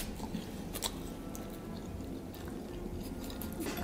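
Close, quiet chewing and soft squishy bites of oven-roasted chicken, slightly burnt, topped with sauce and raisins, irregular mouth sounds with no talking.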